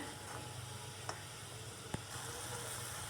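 Dahi chole gravy bubbles and sizzles in a pan, a steady, quiet hiss with faint crackles and a couple of small clicks, no voices.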